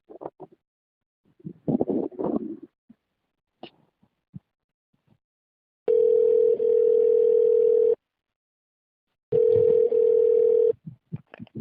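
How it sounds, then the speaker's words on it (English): A telephone rings out to reach a pastor: two long, steady electronic ring tones, each about two seconds, separated by a pause, clear and close. Scattered faint handling noises and murmurs fill the gaps around them. "Just a moment. Let me ring him."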